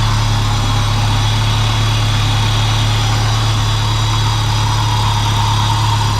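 A car engine, running without its supercharger after new piston rings, idles steadily and loudly at close range, a constant low rumble throughout with no voices.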